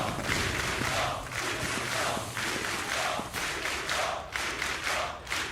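A large arena crowd at the ESL One 2015 Katowice Counter-Strike: Global Offensive quarterfinal roars and shouts in surging waves. The sound is muffled and fairly distant, with no clear talk on top.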